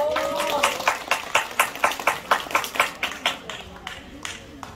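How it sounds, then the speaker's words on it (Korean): An audience at a Buddhist dharma talk during a Buddha's Birthday service at Daeseongsa temple in Okcheon claps in a steady rhythm, about fourteen sharp beats in unison, the final ones fading. "박수 한번 주세요."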